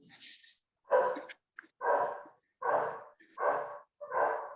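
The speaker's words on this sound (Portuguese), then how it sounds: "Tem um cachorro aí criativo, latindo em algum lugar." A dog barks repeatedly somewhere nearby, about five loud separate barks in an uneven rhythm, with a short whine at the start and no talking over it.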